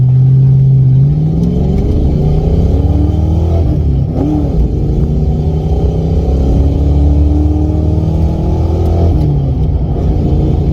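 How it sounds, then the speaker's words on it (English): A Ford Mustang Fox Body engine runs on a test drive after its ignition timing was reset. It gives a steady mid-pitched drone that rises in pitch with throttle and swells around the middle and again near the end, with no talking. "I'm gonna take it for a spin, we'll see how it runs"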